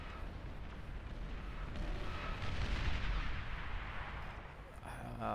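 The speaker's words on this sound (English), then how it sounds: "I think that explosion blew up this" A deep, rumbling blast rolls out in the Beyond All Reason strategy game as an atomic bomber is destroyed. The explosion swells into a broad, noisy roar at moderate loudness and then fades away.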